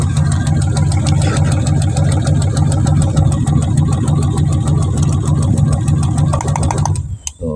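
Fuel-injected Triumph T120 engine runs with a steady, loud mid-pitched throb, then abruptly cuts out and stalls near the end, leaving a brief sputter.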